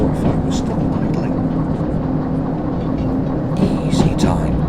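A locomotive idles in the train simulator game Derail Valley on level track, giving a steady, continuous low rumble with a faint tonal hum that holds evenly throughout.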